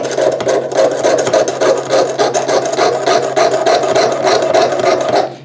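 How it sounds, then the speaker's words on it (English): A jeweler's saw blade cuts through metal in saw piercing, loud, close rasping strokes repeating in a quick steady rhythm for several seconds before stopping. "Place it down and keep sawing."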